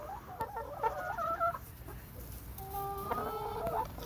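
Backyard chickens cluck nearby in two short, bright bursts of calls separated by a brief lull, with faint farm ambience underneath.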